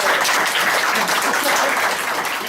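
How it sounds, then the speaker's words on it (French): Audience at a stage hypnosis show applauds loudly, a dense steady wash of clapping from many hands lasting a few seconds. "On les applaudit bien fort."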